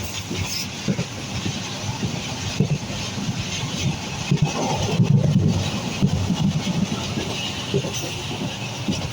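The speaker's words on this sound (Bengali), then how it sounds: "আর ট্রেনের আওয়াজ অনেক বেশি, প্রচুর পরিমাণে শব্দ।" Loud train running on rails, heard from inside a carriage on a long journey past green countryside, with steady rumble and rhythmic clickety-clack throughout and no talk.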